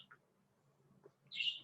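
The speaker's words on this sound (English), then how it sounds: "And the birds are tweeting." Birds tweeting outdoors: a brief faint chirp near the start, then one louder, clearer tweet at the end, set against a quiet room hum.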